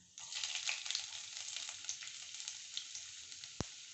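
Ginger hitting hot oil where mustard seeds have already spluttered, a steady close sizzle and crackle with one sharp pop near the end, no voices.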